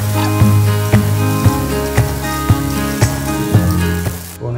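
Robalo fish searing in oil in a frying pan, a steady loud close sizzle with faint regular clinks or taps roughly every half second, no voices.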